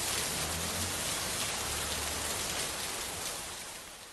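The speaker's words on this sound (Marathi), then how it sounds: "रायगड जिल्ह्याला सुद्धा मुसळधार पावसानं झोडपलंय" Heavy monsoon downpour in Raigad, a steady dense roar of rain pouring down evenly for the whole stretch, easing slightly at the very end, with no voices.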